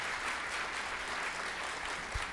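Steady applause from a meeting audience for the Durham City Council, a dense even wash of clapping held at moderate distance throughout, with no speech over it.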